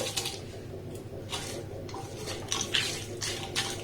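Whole cloves, cardamom, cinnamon sticks and cumin are stirred in a pan, giving faint scraping, clinking strokes in a few separate bursts over a low steady background hum.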